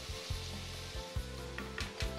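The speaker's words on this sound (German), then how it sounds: "Die Gnocchi aus Knödelbrot haben ihr heißes Wasserbad hinter sich und werden jetzt in der Pfanne verfeinert." Bread-dumpling gnocchi fry in a pan with butter and sage, giving a steady close sizzle with a few soft stirring knocks and scrapes and no talking.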